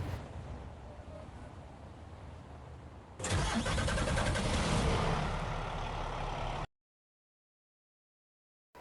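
A big American semi truck's engine cranks and catches in the mobile game Truck Simulator Drive USA EVO, a quiet low idle giving way to a loud, steady diesel rumble that cuts off abruptly.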